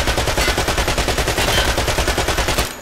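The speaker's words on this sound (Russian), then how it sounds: "У этого Uzi скорострельность 600 выстрелов в минуту" An Uzi submachine gun in a video game fires a continuous automatic burst at 600 rounds per minute, loud evenly spaced shots rattling for nearly three seconds before cutting off.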